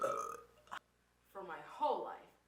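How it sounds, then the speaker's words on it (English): A voice produces a loud burp, a short throaty belch at the start followed by a longer, croaking belch after a brief silence. "For my whole life, I've been searching for this perfect burp"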